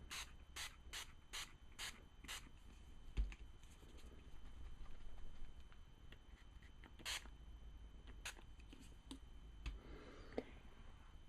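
Glimmer Mist sprayed onto cardstock, a rapid series of about six short, close spritzes early on, then scattered single sprays and faint handling sounds over a low background hum.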